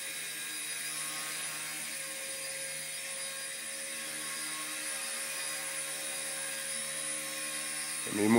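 Genius and Mini CP RC helicopters hover with a steady high-pitched motor whine and rotor buzz that holds evenly throughout, close by, with a brief louder rise at the very end.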